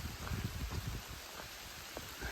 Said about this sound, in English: now it's raining, and it's raining pretty hard